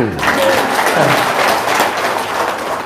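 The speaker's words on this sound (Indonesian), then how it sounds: "Tepuk tangan." Steady, dense clapping rises from a seminar crowd at a testimonial session, loud and fairly close, holding evenly throughout with a bit of voice mixed in.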